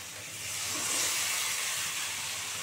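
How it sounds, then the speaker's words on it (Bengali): Steamed taro with Malabar spinach poured into a hot pan for a wedding-style chorchori, a broad rising hiss of steam and sizzling that swells quickly and holds steady, close and without talk. "এই যে ভাপ দেওয়া জিনিসটা আবার ঢেলে দেবো এর মধ্যে।"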